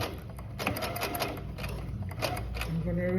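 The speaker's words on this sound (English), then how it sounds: "I'm gonna back stitch a little for reinforcement." Sewing machine back stitching along a zipper on a small coin purse, a rapid steady mechanical chatter with short bursts and pauses, close up, with a person speaking over it.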